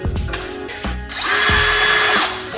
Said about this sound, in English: I know it's called a power drill.